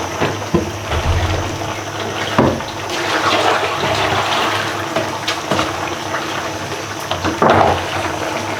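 Running water pours steadily as Malabar spinach is washed in a home kitchen, a continuous close gush with occasional clatters and splashes, no talk.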